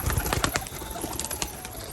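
Rajshahi pigeons cooing in a loft, soft repeated coos with some fluttering and scuffling, fairly close and steady, with no voices over them.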